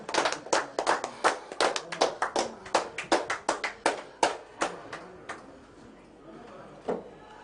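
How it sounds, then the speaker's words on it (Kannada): Individual claps ring out at an honouring ceremony for the New India Group. They are sharp and spaced, a few hands in an uneven run that thins out and stops near the end, with little talk over them. "ಒಮ್ಮೆ ಜೋರಾದ ಚಪ್ಪಾಳೆ, ಜೋರಾದ ಚಪ್ಪಾಳೆ."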